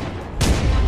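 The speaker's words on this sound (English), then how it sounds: "Oh, an actual grenade." A grenade explodes in the video game Cactus Cowboy as a sudden loud boom that breaks in midway, after a quieter stretch, and stays dense and rumbling to the end.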